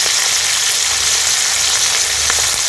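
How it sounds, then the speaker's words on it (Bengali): Onions sizzle lightly in a pan with oil, a dense, even hiss that runs steadily throughout, close and fairly loud, with a few faint clicks and no voices. "পেঁয়াজটা হালকা করে ভেজে নিয়েছি"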